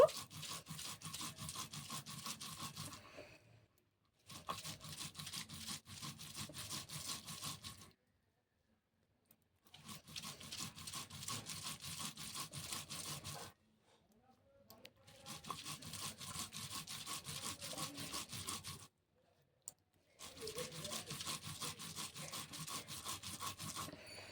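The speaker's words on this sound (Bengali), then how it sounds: "কচুটা এবার বেটে নেব শিলনোড়াতে এটা মিক্সিতেও বাটা যায় কিন্তু শিলনোড়াতে বাড়লে বেশি টেস্ট হয়" Taro is ground on a traditional stone shil-nora, with steady rhythmic rasping and rubbing strokes in four long bursts separated by short pauses, close up.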